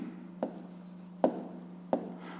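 A pen writes an answer in a math exercise, three short distinct scratchy strokes spaced apart against a quiet room with a steady low hum.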